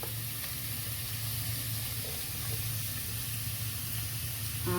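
Finely chopped green chillies and sliced onions fry in a pan for a Goan crab curry, giving a steady, close sizzle with a faint low hum underneath and no voices.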